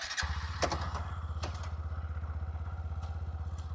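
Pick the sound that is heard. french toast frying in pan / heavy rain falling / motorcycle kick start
motorcycle kick start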